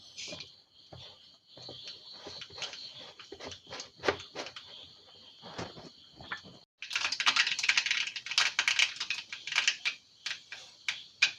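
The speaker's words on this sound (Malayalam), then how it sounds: "നമുക്ക് അതിലേക്ക് കടുക് ഇട്ട് കൊടുക്കാം." Mustard seeds splutter and pop in hot coconut oil in a pan, dense rapid crackling that grows louder and busier partway through, with no talk.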